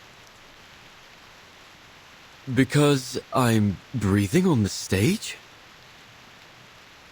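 Rain falling on a stage in Reverse: 1999 makes a steady, soft hiss of drops throughout, with a voice speaking briefly in the middle.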